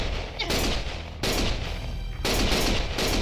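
Gunshots in the video game Lost Judgment, a loud dense burst of rapid gunfire in two or three sustained volleys separated by brief gaps.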